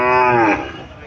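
A local desi cow gives one loud, close moo that rises and then fades within a second, in a village livestock setting.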